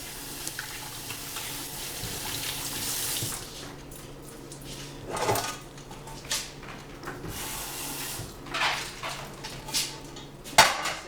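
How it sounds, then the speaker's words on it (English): Hands being washed under a running kitchen tap before cooking, water streaming and splashing into a sink with intermittent louder gushes and faint clinks of dishes, close by, no speech. "Always want to wash your hands when you're about to cook."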